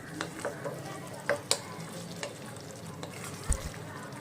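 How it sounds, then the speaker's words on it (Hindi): Paneer cubes stirred through a spiced gravy in a pan: a close, continuous sizzle broken by repeated scraping and clacking stirs of a spoon, with a couple of low thumps toward the end. "पनीर को डालकर ग्रेवी के साथ अच्छे से मिला लें, मसालों के साथ बढ़िया से मिलाकर"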